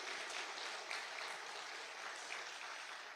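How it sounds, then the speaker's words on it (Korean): A church congregation at a Sunday worship service applauds its deacons and volunteers, a soft, distant wash of steady clapping heard throughout. "올해 수고에 감사하며 앞으로도 잘 감당해 주시기를 우리 박수로 격려하겠습니다."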